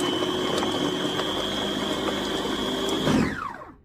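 An electric chopper whirs at its first speed through onions, pepper, tomato and garlic, a loud steady motor whine for about three seconds before it spins down and stops.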